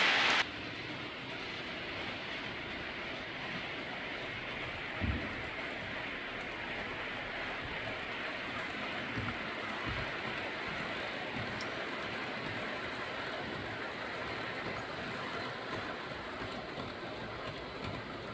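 Model railway trains run on a layout as a faint, steady rolling hum and light clatter that continues evenly, with no one speaking.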